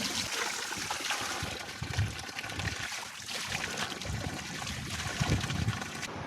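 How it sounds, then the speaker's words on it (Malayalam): Spring water seeping from a cliff runs out of a pipe near the Varkala shore. It makes a continuous close splashing, trickling rush with steady broad noise and no talking. "മുകളിൽ നിന്ന് ഊറി വരുന്ന വെള്ളം പൈപ്പിട്ട് പുറത്തോട്ട് വെച്ചിട്ടുണ്ട്"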